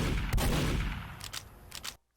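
Gunfire in the fast rhythm shooter BPM: Bullets Per Minute, a heavy booming shot followed by a few quicker sharp reports in rhythm, loud and punchy, ending in a sudden cut to silence.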